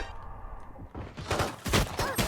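Gunfire in the tactical shooter Valorant: a calm stretch gives way to a burst of several loud, close shots in quick succession over the last second and a half.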